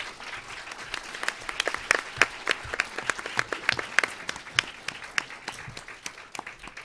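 An audience at a cultural debate gives the panel guests a sustained round of applause, a dense crowd of clapping hands that runs steadily throughout.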